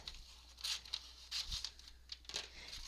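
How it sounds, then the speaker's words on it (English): Scissors slice through a longer strip of old piano roll paper, giving several crisp, papery snips and rustles up close, spaced irregularly over a few seconds with no talking. "I need to cut more. Cut a longer piece"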